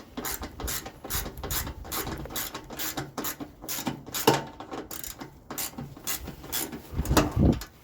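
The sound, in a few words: ratchet with 3/8 socket tightening panel bolts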